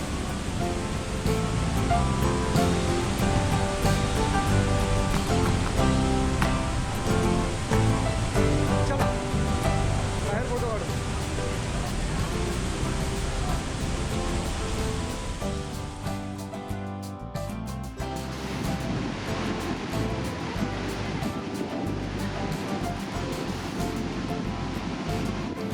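Steady, dense rush of water roars continuously throughout, loud and close, heard from a cave below Thoseghar waterfall, like a heavy waterfall pouring nearby with no talking.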